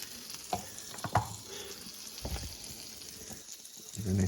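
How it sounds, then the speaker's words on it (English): Onions and garlic sauté in hot butter for Spanish rice, giving a soft sizzle with intermittent clatters and scrapes of utensils, closing on a louder burst of frying. "so I saute the onions and the garlic with butter"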